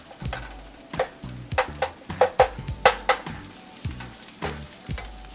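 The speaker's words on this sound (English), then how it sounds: "the onions, peppers, already getting warm and browned" Potatoes, onions and peppers frying in a pan, steady sizzle broken by a series of sharp spatula scrapes and clinks against the pan in an irregular rhythm.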